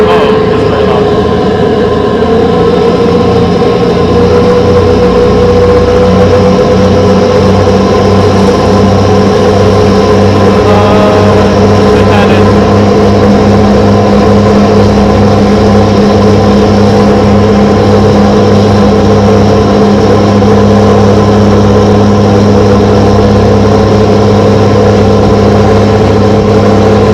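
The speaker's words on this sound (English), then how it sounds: "the more cars you have, oh, this is very loud." Heavy car traffic rumbles loudly and steadily along a New York City street, with engines idling and revving in a close, constant roar that never lets up.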